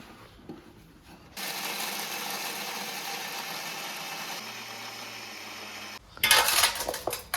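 Almonds for gond laddu being ground in a kitchen mixer grinder: a steady, loud whirring grind for several seconds that stops, followed by a short burst of clattering rattle near the end.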